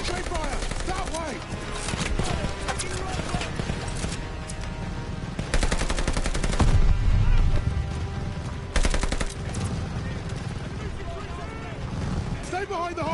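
Sustained machine-gun and rifle fire in a Call of Duty Vanguard battle, dense overlapping bursts with louder swells around the middle, mixed with battle noise and shouted voices throughout.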